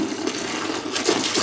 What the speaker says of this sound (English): Now it's time to add our water here, which I've got in my 5-gallon jug.